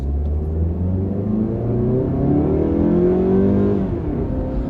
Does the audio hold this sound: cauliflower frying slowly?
no